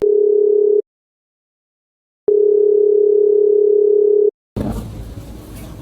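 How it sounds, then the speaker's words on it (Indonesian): A telephone rings for an incoming call: a plain electronic tone in two long bursts separated by a pause, loud and close, followed by a short burst of rustling noise. "ada telepon dari mamiku nih"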